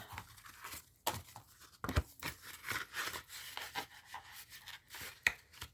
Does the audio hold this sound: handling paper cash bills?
yes